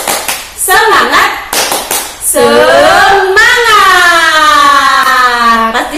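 During an online primary class lesson, a group claps out a quick rhythmic pattern with several sharp, close claps, then breaks into a loud, drawn-out sung cheer of voices.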